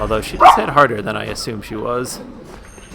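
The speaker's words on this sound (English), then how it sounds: "If you could hear, my dog's freaking out." A pet dog barks excitedly at someone outside, its sharp yips and bow-wows breaking up beneath close, continuous talk from a person playing Bloodborne.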